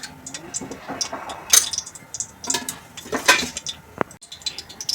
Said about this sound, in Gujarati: આપણે બધું બરોબર હલાવી દઈશું